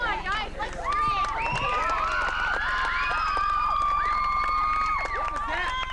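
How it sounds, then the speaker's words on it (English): A group of girls at a 1990 girls camp screams together, many overlapping high-pitched shrieks and wails rising and falling continuously for several seconds, loud and close. "Come on, guys, let's scream!"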